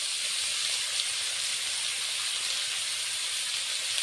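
Fish pieces fry together with potato, cauliflower and turmeric powder, giving a steady, dense, close sizzle and hiss that holds evenly from start to finish with no voices.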